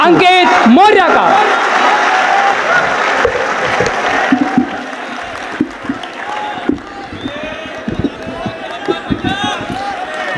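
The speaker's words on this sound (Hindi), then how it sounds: "जोरदार तालियों से स्वागत करें अंकित मौर्य का" An audience at a poetry recital at BHU welcomes poet Ankit Maurya with loud applause that swells and then fades, while a voice speaks over the clapping and sharp claps and thumps stand out as it dies down.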